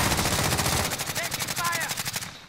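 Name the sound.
gunfire in a video game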